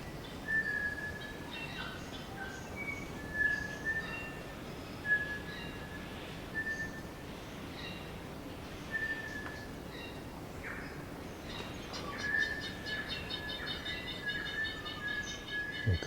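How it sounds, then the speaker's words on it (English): Clear, ringing whistled New Zealand bellbird notes repeat at intervals over a steady hiss, with a few fainter chirps from other birds in the background. "here's a New Zealand bellbird"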